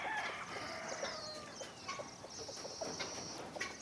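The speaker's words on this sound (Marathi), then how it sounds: "आणि आपल्या कोंबड्या बघा कसं एकदम नॅचरल वातावरणात असतात." Free-range village chickens on a farm flock of about 500 cluck and chatter continuously at close range, several birds overlapping in a busy outdoor din with no talk.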